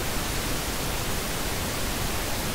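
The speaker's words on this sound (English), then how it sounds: "Pink noise might be a good option if white noise is too high pitch." Steady, full-spectrum pink noise hiss plays without a break, even and unchanging in loudness from start to finish, with no voices or other sounds.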